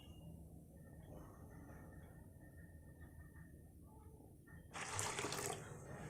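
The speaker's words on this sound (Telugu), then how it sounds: "ఇందులో తగినన్ని వాటర్ వేసుకొని ఉడికించుకోవాలి." Water poured into a pot of toor dal with green chillies and turmeric, a low steady running trickle that swells into a louder gush near the end, with no talk.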